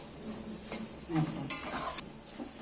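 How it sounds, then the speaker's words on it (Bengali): Raw mango pickle, thickened and mushy, being stirred and fried in a pan, giving a soft low sizzle with intermittent scraping and clinks of the spoon against the metal, moderately close. "আমটা দেখো নাড়তে নাড়তে কতটা ঘাঁটা ঘাঁটা মতো হয়ে গেছে"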